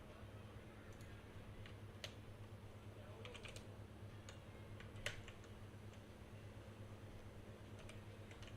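Quiet keyboard typing with scattered, irregular key clicks over a steady low fan hum, one sharper keystroke standing out near the middle; no voices.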